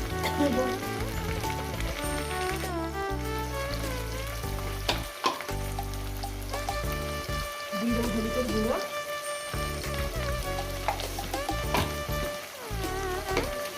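Vegetables frying in a pan for a Bengali rohu fish curry with cauliflower and potato, as spice-bowl rinse water is poured in, giving a loud continuous sizzle with stirring over background music.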